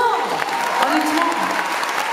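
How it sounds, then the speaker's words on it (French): Concert audience applauding at a show in Mérignac, a dense sustained wash of many hands clapping with some crowd noise, while a voice talks over the top. "on vous applaudit très fort"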